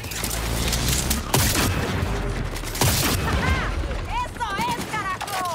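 Close-range gunfire in Cyberpunk 2077, with heavy shots and sharp bangs cracking over a dense combat din. Chirping electronic sounds follow later, and a voice shouts throughout.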